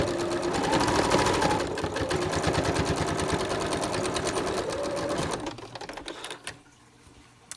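A sewing machine stitching a cloth face mask with a replaceable filter pocket, running loud and close with a rapid steady needle clatter for about five seconds, then slowing and stopping with a few clicks.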